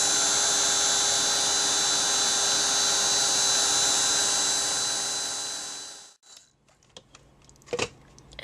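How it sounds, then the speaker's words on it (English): A handheld heat tool drying stamp ink blows a steady, loud whining hiss for about six seconds, then switches off and winds down, leaving a few small handling knocks. "And then I can dry this with my heat tool."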